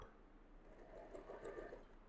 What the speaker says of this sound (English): So you just run the sewing machine on the seam.